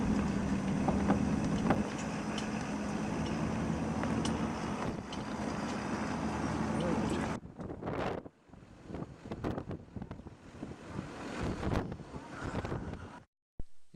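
Wind roars during a snowy blizzard on an open Montana plain during a buffalo hunt, loud steady buffeting against the microphone that breaks into choppier gusts partway through.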